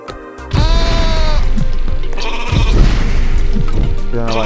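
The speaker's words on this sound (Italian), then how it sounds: "pecora" Loud, drawn-out sheep bleats come from the video game Rain on your Parade, repeating close up over busy game sounds.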